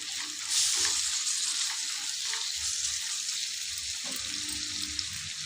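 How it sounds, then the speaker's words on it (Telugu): Ginger and onions fry in a pan for an egg curry, giving a loud, steady sizzling hiss that runs throughout with slight swells, with no talking. "ఇప్పుడు మన అల్లం కూడా మంచిగా ఇట్లా ఫ్రై అయింది కదా ఆనియన్స్లో."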